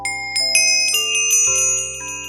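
A Minecraft level-up sound: a bright electronic chime jingle rings out in quick stacked tones, ascending into a shimmering sustained chord.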